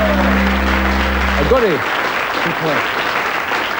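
Audience applause forms a broad, continuous crackling bed that fills the whole stretch, while someone speaks over it, his voice dropping off partway as the clapping carries on steadily.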